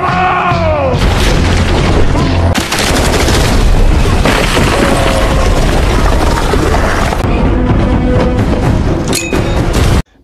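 War film soundtrack thick with continuous explosions, booms and gunfire bursts, loud and dense throughout, with faint voices and whistling effects mixed in.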